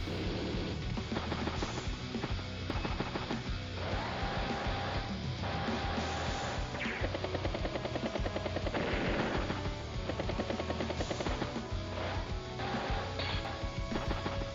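Rapid automatic gunfire bursts and clattering impacts play as one bike unit attacks another in the video game Advance Wars: Days of Ruin, loud and continuous with no talk.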